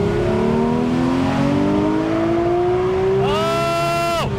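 A modern Porsche convertible accelerates hard and loud, its engine note climbing steadily through the revs. Near the end it shifts up with a sharp rising whine, then cuts off abruptly.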